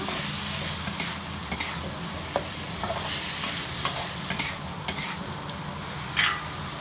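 Prawns drop into a frying pan with tomato for Chettinad prawns, bringing a continuous sizzle broken by sharp scraping and clinking stirs at irregular intervals, close and fairly loud, with no talking.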